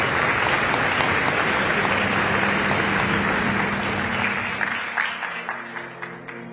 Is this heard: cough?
no